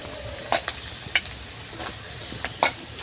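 Spiny gourd (kakrol) pieces go into a frying pan with lightly fried potatoes, giving a soft steady sizzle broken by a few sharp stirring clinks against the pan.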